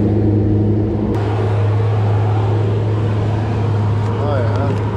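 Scrap yard Cummins diesel engine with its turbo spinning: a steady low droning whir holds throughout, close and constant, with a faint higher whine and brief clicks near the end.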